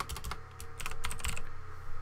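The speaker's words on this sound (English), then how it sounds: "I actually have to hit I on my keyboard." Rapid clicking of keys on a computer keyboard while working in the Linux terminal, close and fairly steady for about two seconds with no talking.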